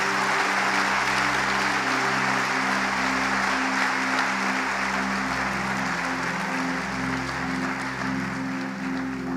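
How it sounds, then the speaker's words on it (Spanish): Church congregation applauding during a Spanish-language sermon, a dense, sustained wash of clapping held steady for the whole stretch over a faint low musical drone. "Denle un aplauso a Jesús porque es bueno"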